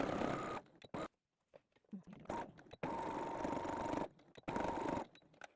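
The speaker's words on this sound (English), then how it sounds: "Okay, and now we're going to sew on that line on both sides." Sewing machine stitching darts in a fabric bowl cozy, several bursts of steady mechanical whirring separated by pauses, close and clear.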